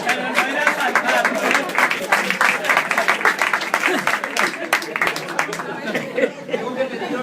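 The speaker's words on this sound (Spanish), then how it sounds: "Tengo que pediros que no aplaudáis los chistes malos" A live audience at a talk by Monedero on Podemos breaks into dense applause after a joke, with crowd chatter and some laughter mixed through the clapping for several seconds.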